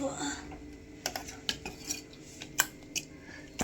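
Pongal ingredients being stirred and mixed together in a pot, with a spoon clinking and scraping against the metal in scattered, irregular taps over a low background hum.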